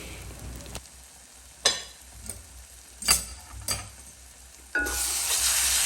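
Kerala-style beef roast being stirred in a pan, with scattered scraping strokes of a spoon over a soft steady sizzle, and a louder burst of frying hiss near the end.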